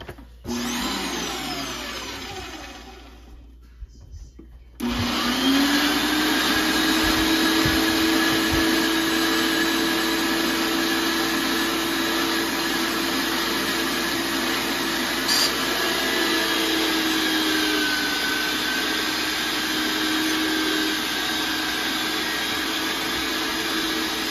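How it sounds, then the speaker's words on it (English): A meat grinder runs while grinding venison for breakfast sausage, a loud continuous motor whine and hum that starts after a few seconds of rougher noise and holds steady throughout. "This took a good while to grind all this meat down"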